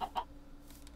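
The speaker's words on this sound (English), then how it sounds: "Chickens." Chickens in the Minecraft video game give two quick clucks at the start, faint and close, followed by quiet ambient game sound.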